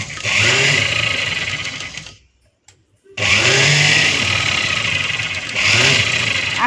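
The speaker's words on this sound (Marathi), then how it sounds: "आता आपल्याला द्यायची आहे याच्यावरती परत एक दाब शिलाई" A sewing machine runs steadily and close up as it stitches along a blouse's front button strip, stopping briefly for about a second before whirring on again.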